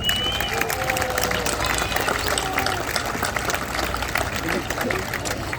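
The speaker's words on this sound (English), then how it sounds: "Please give them a round of applause" An audience at the State Fair of Texas opening day ceremony gives a sustained round of applause for the fair's board and staff, a dense clapping wash that fills the whole stretch at steady loudness.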